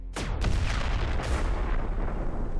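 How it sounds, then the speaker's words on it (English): A medium generator explodes in Empyrion Reforged Eden 2, a loud close boom with a sharp crack that rolls into a long, dense rumble of debris, followed by a second blast. "Explosion of generator literally obliterates the steel blocks."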